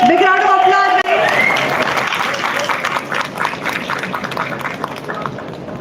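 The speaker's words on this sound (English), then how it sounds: "Big round of applause, guys." A seminar audience applauds a speaker being welcomed on stage, with brisk, sustained clapping that follows a voice, stays steady and slowly thins out.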